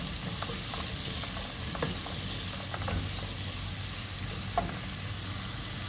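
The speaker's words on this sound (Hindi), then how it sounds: "प्याज में मैं ऐड कर दूंगी 1 टीस्पून नमक और इसे अच्छे से फ्राई करेंगे।" Sliced onions frying in hot oil with a teaspoon of salt for a potato and eggplant sabzi, a steady close sizzle with occasional soft stirring clicks.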